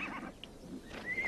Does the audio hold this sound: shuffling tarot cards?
no